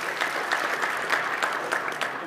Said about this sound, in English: You can clap your hands